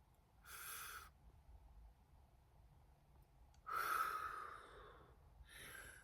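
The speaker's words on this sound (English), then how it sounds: "we're going to breathe in and breathe out" Slow, deep breaths taken in and let out during a morning group breathing exercise, each long airy inhale and exhale separated by quiet pauses, close and fairly soft.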